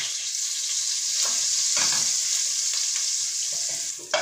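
Butter foams and sizzles in a hot pan as it browns, a steady hissing crackle up close with a few soft scrapes and taps of stirring, no voices.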